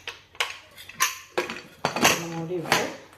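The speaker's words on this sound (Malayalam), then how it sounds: "കുക്കറിനെ മൂടി വേറെ കഴുകി വെച്ച്" A metal pressure cooker lid is washed, sending out a series of bright clinks and clatters in irregular bursts, with rattling metal ringing briefly after the louder knocks.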